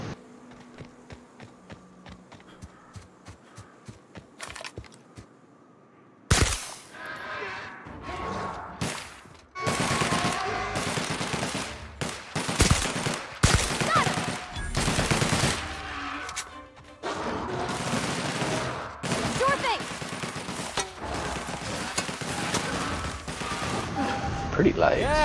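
Allies firing guns in a loud skirmish, bursts of rapid machine-gun fire and single shots erupting after a quieter opening, with sharp smashing impacts and occasional voices mixed in.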